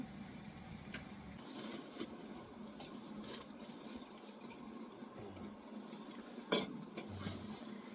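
Food being stirred and mixed in a container inside a hot tent on a cold camping trip, a steady close scraping swirl with a brief louder clink near the end.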